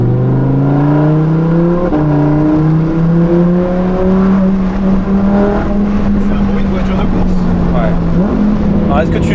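Lamborghini Huracan EVO engine idling low around 2000 rpm, a loud steady droning rumble heard from inside the car, with people talking throughout.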